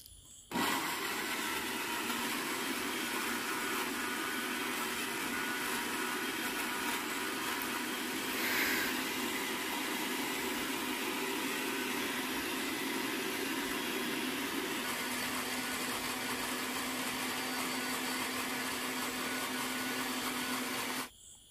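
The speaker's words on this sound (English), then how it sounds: "So we are adding our tomatoes, onions, ginger and garlic to our grinder" A kitchen grinder whirs steadily as it blends tomatoes, onions, ginger and garlic for a red oil sauce. The motor drone is continuous and even, with a slight shift in pitch midway and a sharp stop at the end.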